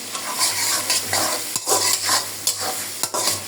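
Onions sizzling in a hot pan for chicken curry, loud close frying hiss broken by rhythmic spatula strokes and scrapes against the pan, no voices.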